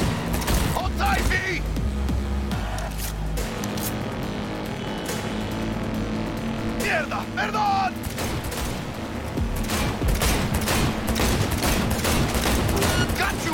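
Rapid bursts of automatic gunfire from a car-chase shootout in the video game Cyberpunk 2077, loud and nearly continuous over engine rumble, with shouting voices mixed in.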